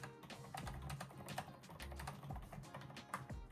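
Typing on a quiet MSI Strike Pro Wireless keyboard: soft, rapid, continuous keystrokes, muffled and close, with no talking.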